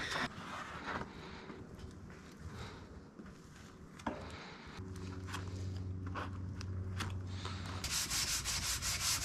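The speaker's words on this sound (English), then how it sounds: "what I've done now is sand this down" Close, rough scraping of sandpaper rubbed back and forth over hardened Bondo filler, with brief pauses and a brighter, faster burst near the end.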